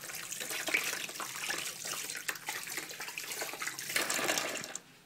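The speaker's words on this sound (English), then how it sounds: "I need to wash my hands before I touch all the utensils." Hands being washed under a running kitchen tap, a steady hiss of flowing water with small splashes, moderately close, then cut off abruptly near the end.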